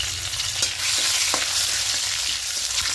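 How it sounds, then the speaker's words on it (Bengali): Panch phoron, dried red chillies and bay leaves fry in hot oil in a kadai, giving a steady, close sizzle with a few faint spatula knocks and no talk. "দিয়ে হালকা একটু ভাজা ভাজা করে নেবো ফোড়নের গন্ধটা বেরিয়ে আসা পর্যন্ত"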